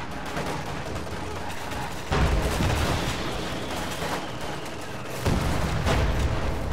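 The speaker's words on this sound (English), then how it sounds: "Looks like a heavy mortar's been produced by Symbiosis here, trying to barrage the defensive position" A heavy mortar barrage in the video game Company of Heroes 2, heard as a dense, roaring battlefield wash of gunfire and rumbling blasts. Two louder impact surges land a few seconds apart, close and loud, under constant background fire.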